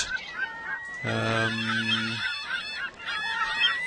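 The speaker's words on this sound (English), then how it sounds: "I realize the seagulls are pretty noisy" Seagulls cry ambiently on a virtual island in Second Life, with one loud, drawn-out squawk in the middle over a steady bed of fainter calls throughout.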